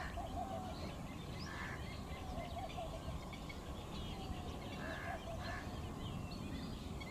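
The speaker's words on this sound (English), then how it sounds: "And there's some more birds over here." Birds call outdoors in India, scattered chirps and calls over a dense, constant outdoor background, moderately distant.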